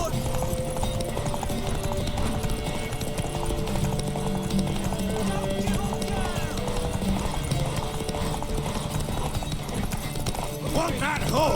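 Steady clip-clop of horse hooves with an occasional whinny, heard under a continuous soundtrack and voices from The Witcher 3: Wild Hunt.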